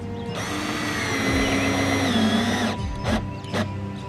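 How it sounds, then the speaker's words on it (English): A power drill drives a self-tapping screw into the rear bumper of a Nissan 350Z: a loud, steady whirring grind for nearly three seconds, then two short bursts as the screw is seated. "So I'm gonna have to self-tap into this and then self-tap into my rear bumper."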